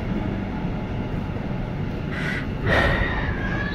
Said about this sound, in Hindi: जिस मेट्रो का इंतज़ार कर रहे थे वो मेट्रो आ चुकी है